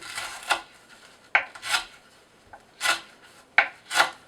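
A Cold Steel Voyager Medium knife with an AUS8A steel blade draw-slicing through rope, giving several short rasping slices in an uneven rhythm, close and fairly clear, with no talking.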